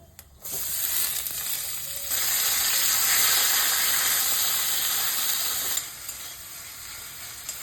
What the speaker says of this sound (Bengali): কেটে রাখা পেঁয়াজ টমেটো দিয়ে দেবো